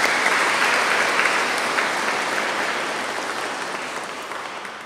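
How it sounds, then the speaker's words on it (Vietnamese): Sustained applause from a church congregation at an Easter vigil service, steady and dense for the whole stretch and slowly fading toward the end. "Chúng ta cùng chúc mừng nhau lễ giáng phục sinh bằng một tràng pháo tay thật là nồng nhiệt."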